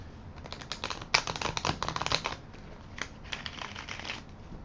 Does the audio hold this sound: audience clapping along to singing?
no